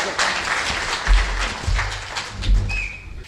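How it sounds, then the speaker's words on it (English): An audience gives warm applause to welcome Dr. Charles Hoffe at his Victoria presentation, with scattered clapping, some thumps and a faint whistle near the end, fairly close and short. "So let's have a big, warm applause."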